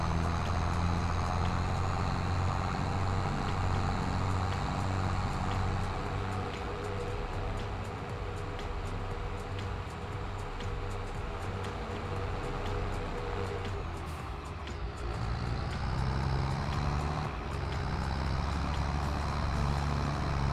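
A farm vehicle in Farming Simulator 22, on the NF Marsch map, drones with a steady, loud engine hum throughout, with a brief shift in tone partway through before the engine resumes its constant rumble.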